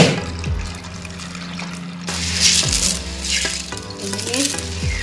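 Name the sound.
washing dirty hydroton clay balls in water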